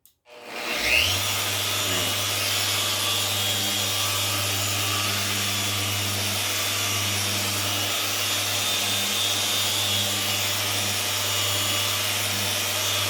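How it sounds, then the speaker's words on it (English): A buffer polisher works over a guitar finish, starting abruptly and then droning steadily and loudly with a strong low hum and bright hiss, unbroken and close for the whole stretch, with no speech. "you keep your buffer polisher level"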